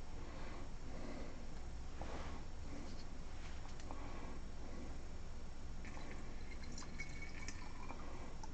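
Water trickling and dripping into a small bottle, a soft, faint liquid fill with irregular drips and gurgles throughout.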